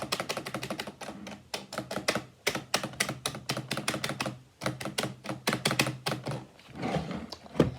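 Rapid typing on an illuminated computer keyboard, with dense bursts of sharp clacking keystrokes and occasional heavier space bar thumps, close and loud, broken by brief pauses.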